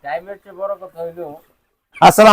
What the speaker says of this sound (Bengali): মাসুদ ভাইয়ের কালারবাট মুরগির খামারে এখানে উনি প্রায় তিন হাজারের মতো মুরগি পালন করতেছেন